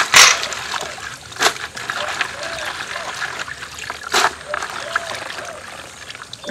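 Beans are washed by hand in water, with sloshing, trickling and splashing, and sharper splashes at the start and twice more, all close up.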